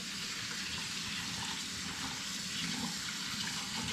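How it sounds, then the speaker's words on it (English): Lamb lollipops rinsed under a running kitchen tap: a steady, close, unbroken stream of water splashing for the whole stretch, with no talking. "Give it a little rinse."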